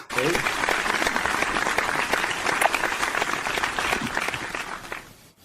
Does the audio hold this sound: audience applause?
yes